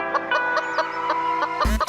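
Several cartoon chickens cluck rapidly in a steady, bright pattern, ending with a sudden loud thump.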